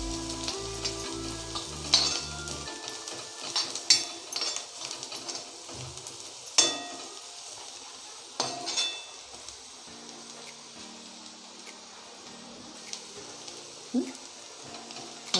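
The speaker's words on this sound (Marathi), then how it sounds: "हे व्यवस्थित परतून घ्यायचं आहे." Turmeric and chili powder sauté in a pan for dry shrimp masala, giving a faint, steady frying hiss broken by occasional scrapes and knocks of stirring over a low hum.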